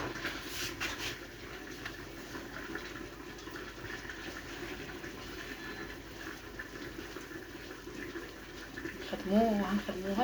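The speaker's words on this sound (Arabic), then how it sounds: "دابا بارك عليها من الماء." Water pouring onto coarse couscous semolina in a bowl, a steady splashing wash over a constant background hum, with a brief rougher burst at the end and no talking.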